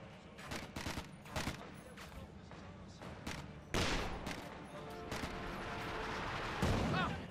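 An anti-tank gun fires during a Company of Heroes 2 1v1 match, its sharp reports mixed with rapid battle gunfire bursts and explosions over a dense, noisy combat soundscape.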